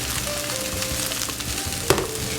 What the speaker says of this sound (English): quickly sauteed spinach. It's already starting to wilt.